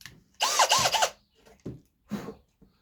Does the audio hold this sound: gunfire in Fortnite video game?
no